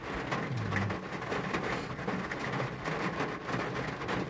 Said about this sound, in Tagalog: Lakas lang po ang ulan.